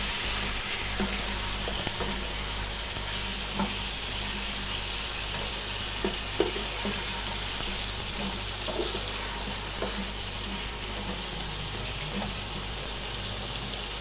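Boiled mixed vegetables and shrimp sizzle steadily in a hot pan while being stirred, with a continuous frying hiss and a few scattered scrapes and clicks throughout.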